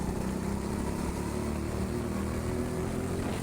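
Go-kart engines racing on an indoor track at TeamSport Sheffield, a continuous droning engine roar with a buzzy rumble throughout, close and steady with no talk.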